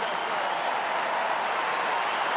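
Stadium crowd applauding and cheering at a 2010 AFL football match between West Coast Eagles and St Kilda, a dense, steady wash of clapping and roar that holds loud and even throughout.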